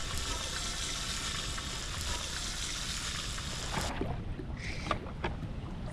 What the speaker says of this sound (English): Annie was cooking breakfast.